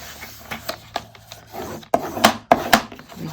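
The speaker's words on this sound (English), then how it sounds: "just grab your scoring tool, okay, and just fold those over and burnish the edge." A scoring tool rubs firmly along the folded edge of patterned paper for a Halloween folio, giving several short scraping strokes, close and fairly loud, with light handling noises in between.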